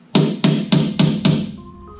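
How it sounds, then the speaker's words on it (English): Five sharp, evenly spaced taps strike the back edge of a Jeep JK rear fender, each ringing briefly before the next, close and fairly loud with no talking. "I'm going to tap on this back edge here"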